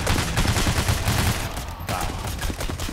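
Gunfire in the video game PAYDAY: The Heist, slaughterhouse setting: a dense, continuous fusillade of rapid overlapping shots, loud and close, filling the whole stretch with barely a pause.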